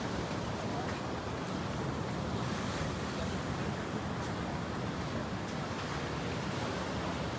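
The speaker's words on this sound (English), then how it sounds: "And of course, the ocean over to our right." Steady broadband roar of ocean surf rolling in along the Myrtle Beach boardwalk, a continuous wash of waves and wind with no breaks, fairly loud and unbroken for the whole stretch.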